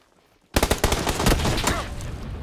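Automatic gunfire in PUBG, a sudden loud burst of rapid shots that blurs into a sustained roar, with no voices.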